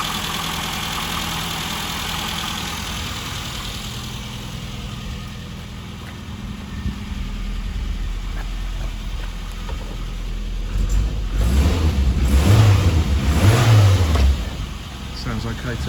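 Classic Mini engine running steadily at idle after repair, then revving up in a couple of rising swells near the end before settling, loud and close.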